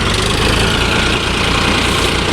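A tractor engine runs loud and close in a village, a continuous rough throbbing drone with steady low pulsing and no talk over it.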